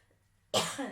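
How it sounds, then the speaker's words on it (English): A single sharp cough bursts out after a quiet stretch, loud and close, trailing into a rough exhale. "still trying to get over a cough here"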